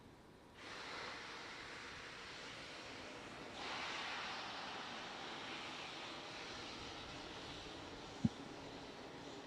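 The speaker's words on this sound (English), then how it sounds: "This is SpaceX releasing the remaining liquid oxygen from the feed lines there at the pad." Liquid oxygen venting from the feed lines at a Falcon 9 launch pad at Kennedy Space Center, a steady, distant broadband rush that swells after a moment and again midway, with one sharp click near the end.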